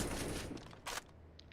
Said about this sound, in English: we're returning some gunfire